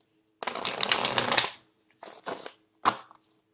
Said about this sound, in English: the cards are very thick and stiff, so it's really hard to shuffle